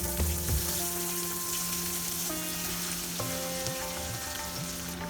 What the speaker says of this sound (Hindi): हमें कबाब डीप फ्राई करना है